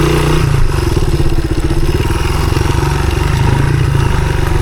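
A 1983 Honda XR200R, about 15 horsepower, climbing a hill on an enduro loop, a loud close single-cylinder engine thumping hard under load with a steady rapid pulse and some clatter.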